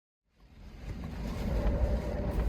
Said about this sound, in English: the wind's picked up and the blackout blind starts to billow.